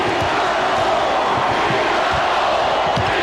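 A 19,000-strong basketball arena crowd at the deciding Game 7 of the 1993 Western Conference Finals, Sonics at Suns, roars in a dense, sustained wash; distinct chant words cannot be picked out.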